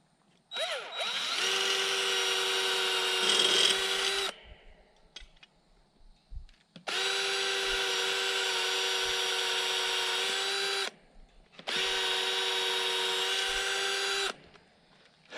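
An old Black & Decker power drill driving screws into wooden boards of a garden gate, three long whining bursts of motor separated by brief pauses with soft clicks and knocks.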